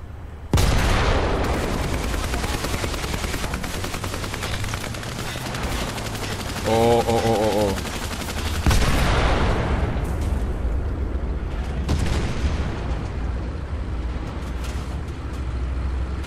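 Tank cannon fire and artillery blasts in the World War II tank combat game War Thunder, tier 6 German versus Soviet armor: loud booming shots and rumbling explosions throughout, with dense crackling bursts and engine drone.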